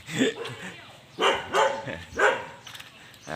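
A fierce, aggressive guard dog known for biting barks sharply three or four times in quick succession at close range, with some whimpering between the barks.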